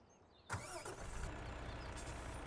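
A MAN milk truck engine in Farming Simulator 17 cranks and settles into a steady mid-pitched idle, starting abruptly after brief near-silence and holding close and even.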